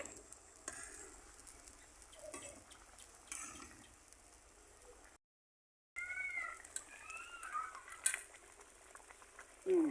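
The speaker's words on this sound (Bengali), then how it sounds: "চাল আলুটা সিদ্ধ হচ্ছে।" Rice and potatoes boil in a pot with a faint, steady bubbling and occasional soft pops and drips, heard quietly with a brief dropout partway through.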